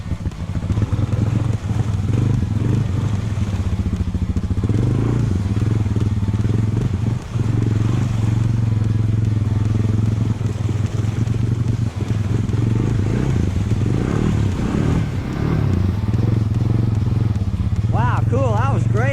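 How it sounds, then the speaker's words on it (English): Honda 300 4x4 ATV engine idling while submerged in deep water, a steady low rumbling idle with bubbling crackle and occasional clatter, loud and continuous throughout. "That was actually idling underwater."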